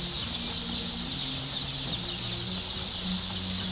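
Cream Legbar chicks at a hatchery peep and cluck steadily, a dense, continuous chorus of small fowl close by with no talk over it.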